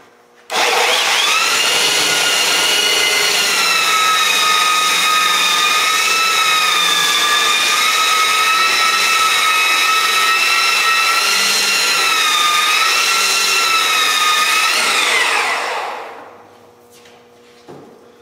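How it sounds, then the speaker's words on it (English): A belt sander grinds across a solid surface seam in a loud, steady whine that starts abruptly and runs evenly for about fifteen seconds before spinning down. "I'm going to start with a belt sander. I'm going to belt sand 2/3 of the seam"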